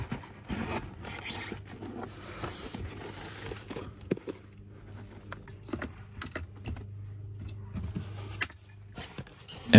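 Carpet in a Tesla Model Y is peeled back after a bolt is removed, giving close rustling, scraping and crinkling with small clicks and knocks over a low hum.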